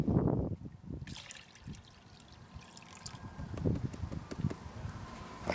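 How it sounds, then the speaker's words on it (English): Crushed quartz gold ore sample being panned in water, with soft trickling, swishing and dribbling water sounds in irregular waves, close and fairly quiet. "I'll crush them up and pan them out, exactly what I'm doing here"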